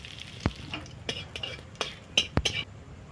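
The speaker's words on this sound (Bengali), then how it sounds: "তো এখানে শুকনো লঙ্কা ছিঁড়ে দিলাম আর গোটা জিরে একসঙ্গে দিয়ে দিলাম।" Dried red chilies, whole cumin and bay leaves fry in hot oil in a kadai, a soft steady sizzle under repeated stirring, with sharp clicks and scrapes of the spoon against the pan at a close distance.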